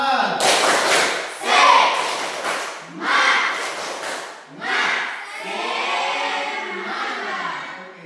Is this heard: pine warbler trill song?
no